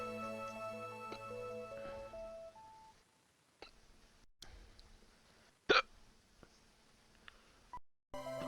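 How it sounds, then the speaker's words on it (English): A single sharp, brief hiccup sounds out loudly midway through, standing clear against faint background game music and quiet surroundings. "I have the hiccups"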